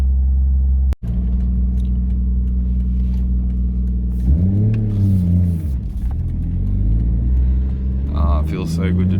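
A car being driven, its engine rumbling steadily up close with a rise in pitch partway through as it accelerates, while a person talks over it.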